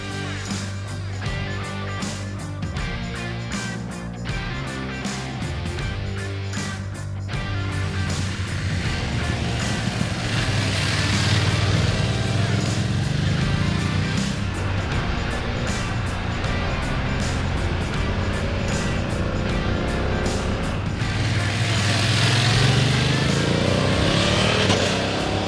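A 2024 BMW F 900 GS Adventure twin-cylinder enduro motorcycle rides on the road, its engine note rising and falling through gear changes and accelerations, with wind rush over a steady drone.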